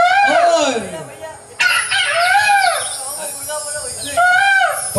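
A human voice imitates a rooster crowing in long, rising-and-falling calls, loud and close, repeated three times with short gaps, apparently at a devotional jagran gathering.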